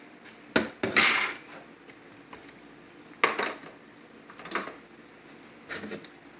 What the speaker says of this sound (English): Then I'm going to pour it over here.